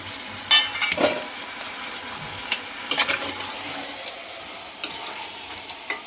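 Tomato pieces drop into a pan of goat head curry, setting off a sizzle with several sharp stirring clatters and scrapes spread across the moment, close and without talk.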